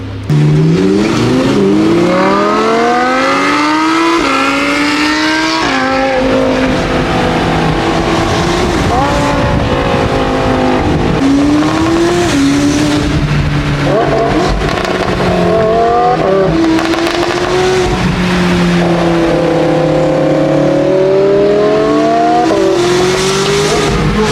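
A sports car revs hard while driving by the ocean, its engine climbing and dropping through repeated gear shifts, loud and close throughout with no talk.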